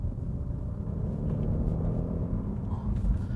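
A 700bhp Audi S8 accelerating on a twisty road, heard as a deep, steady engine rumble from inside the car that holds strong throughout.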